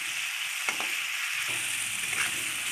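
Lote fish with radish, green chili and garlic paste stir-fries in a pan, giving a constant loud sizzle with a few brief scraping strokes of the spatula, close up and with no talking.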